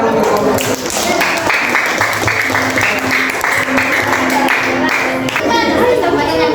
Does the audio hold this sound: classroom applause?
yes